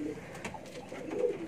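Domestic pigeon cooing softly in repeated low throaty phrases, close by and steady throughout, with faint background noise and no talk.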